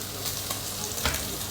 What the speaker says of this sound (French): Je me fais un bon steak là, à me goûter avec un truc.